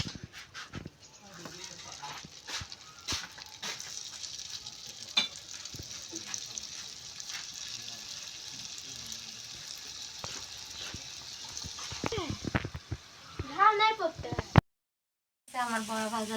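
Palm fruit fritters (tal bora) from a home-grown palm frying in hot oil, a steady low sizzle with scattered utensil clicks and scraping through most of the clip, a brief gap near the end, then the frying resumes.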